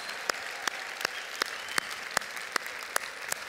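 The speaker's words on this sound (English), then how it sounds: "Let's give them a big round of applause" Steady audience applause at a charity fundraising event, a continuous wash of clapping with sharp, regularly spaced louder claps standing out near the mic.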